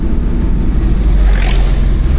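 Suzuki DA17V minivan with Tiptronic gearbox idling before being switched off, a loud continuous low engine rumble heard close by, steady and without talk.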